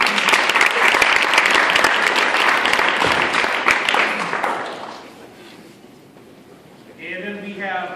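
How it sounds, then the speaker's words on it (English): Loud applause from a banquet audience at a wrestling end-of-season event, steady dense clapping for about five seconds before fading out, then a voice starts talking. "Let's give a round of applause anyway."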